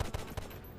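Gunfire in the video game GTA San Andreas, a few quick faint shots in rapid succession, brief and distant-sounding.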